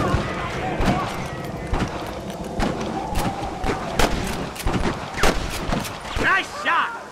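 Revolver or carbine gunfire in the Red Dead Redemption video game, a rapid series of sharp shots and thuds in a busy shootout, layered with game voices and background action.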